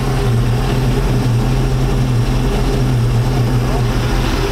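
A boat's inboard engine idling in neutral at about 650 RPM, a steady loud low hum with an even droning pulse and no change in pace.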